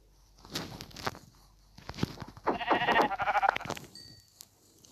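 Sheep in a video game bleat in a few short, close calls, the bleats bunched near the middle, with soft footstep-like taps around them and no talk.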